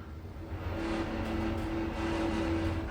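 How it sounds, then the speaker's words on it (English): Steady hum and whir of a FLS/MacPuarsa machine-room-less traction lift travelling upward with a glass car, a continuous low drone with faint tonal whine, moderately loud inside the car, no speech. "This lift is moving up."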